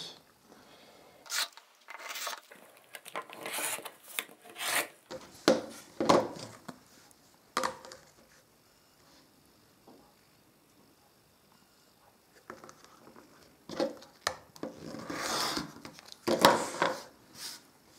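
Quilt fabric being cut into a 13 cm square, heard as faint intermittent rubbing and slicing strokes in short clusters, separated by quiet gaps, close by.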